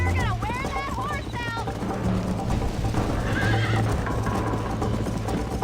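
A horse in the Red Dead Redemption video game, with rapid clip-clop hoofbeats under a loud, shrill neigh near the start and a second whinny soon after, set against a steady game background hum.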